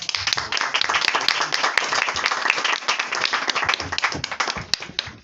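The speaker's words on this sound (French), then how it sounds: "Applaudissements, s'il vous plaît." A stand-up comedy audience claps for a comedian, lively close applause with sharp individual claps and some whoops, sustained for several seconds.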